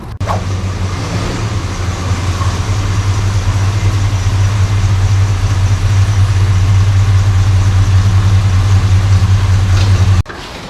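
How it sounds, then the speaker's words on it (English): A Plymouth Road Runner engine idles steadily with a deep, constant rumble, running smoothly and close by for about ten seconds before cutting off. "Plymouth's running pretty good."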